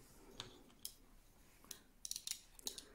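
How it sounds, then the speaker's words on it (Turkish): Scissors snip through knitting yarn, giving several faint, sharp close-up cuts, some single and some in quick pairs, over a quiet room. "Şöyle kestim ipimi."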